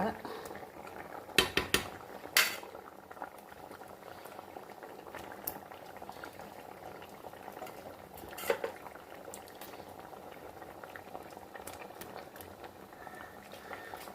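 A pot of Kerala-style parava fish curry simmers with a soft, continuous bubbling. Sharp clinks of metal utensils against the pot come in a quick cluster early on, and a few lighter taps follow later.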